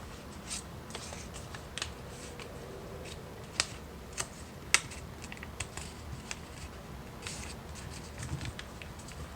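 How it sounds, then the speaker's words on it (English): Folded paper being pressed and creased flat for an origami bird, heard as soft crinkles and sharp little taps and clicks scattered close by, with no talking. "Now let's press the paper down."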